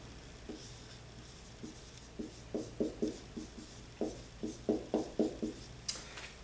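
A pen scratches across paper while a diagram is drawn, a close, quiet run of short strokes in uneven bursts that quicken and cluster toward the end, with no talking.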